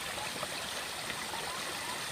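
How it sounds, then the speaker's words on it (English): An irrigation stream running through Philippine rice terraces gives a steady, close, full rush of flowing water with no talking. "as you can hear the water and see it down here"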